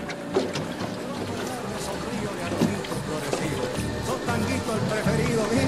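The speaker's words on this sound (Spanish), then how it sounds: "Hay lancha por todos lados, ¿eh?" Motorboat engines drone on a river at Concordia during boga fishing, a busy, steady hum with splashing, while people talk over it nearby.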